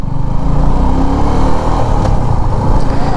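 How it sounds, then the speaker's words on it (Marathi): A Suzuki V-Strom SX 250 adventure motorcycle riding along, its steady engine drone continuous and fairly loud throughout with no pauses or talk. "माझ्याकडे सुझुकीची V-Strom 250 SX"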